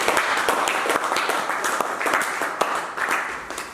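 A church congregation claps and applauds in acclaim of Jesus, a dense, steady patter of many hands filling the room at moderate loudness, with sharper individual claps standing out now and then.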